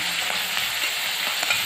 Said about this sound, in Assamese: পিঁয়াজখিনি ভাজি ল'ম মই